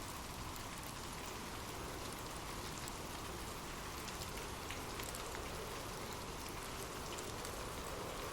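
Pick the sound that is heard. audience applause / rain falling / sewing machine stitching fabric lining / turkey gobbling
rain falling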